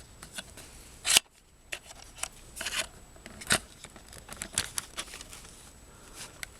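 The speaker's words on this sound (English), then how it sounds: "I'm just gonna unscrew these, loosen this up, and also undo these" Screws are undone to loosen the mount on a Carry Speed VF-3 DSLR viewfinder: a scatter of sharp, small clicks and scrapes in quick irregular bursts, close up against a quiet background.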